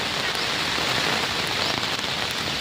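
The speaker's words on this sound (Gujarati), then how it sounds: "જો કેટલો બધો પડે છે વરસાદ" Dense, continuous hiss of heavy rain pouring down and pattering on surfaces, steady and loud with no breaks.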